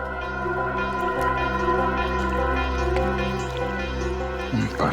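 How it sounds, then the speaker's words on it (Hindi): Steady liquid dripping and trickling under a constant low hum, with a faint squishy texture, as if heard through a phone line. "पानी की आवाज आ रही है सर।"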